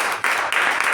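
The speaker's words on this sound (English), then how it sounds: "a big round of applause to the speaker and the evaluator" Meeting audience applauding a speaker and evaluator, a brief one-second burst of steady clapping at moderate loudness with no talk over it.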